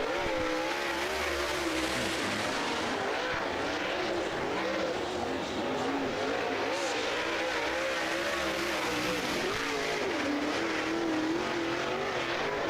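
Super late model stock cars roar around Blackwater Speedway in Florida in a steady, loud drone, engines rising and falling as they pass, with no talking.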